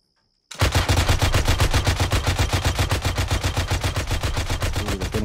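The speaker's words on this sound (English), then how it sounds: "By what? Machine gun." Rapid sustained machine gun fire in the military game ARMA 3, a loud, close, continuous stream of evenly spaced shots starting abruptly after a brief silence and running without pause.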